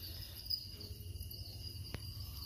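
Crickets in a breeding cage, part of a small cricket-rearing area of about ten cages, give a steady, faint, high chirping drone with one brief sharp click partway through; no one speaks.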